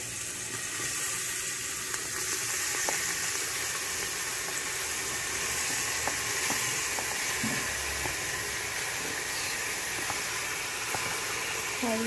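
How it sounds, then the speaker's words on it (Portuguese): Garlic fries in oil with a constant loud sizzle and hiss, a few faint clicks and knocks scattered over it. "E aí eu vou deixar fritando aqui rapidinho"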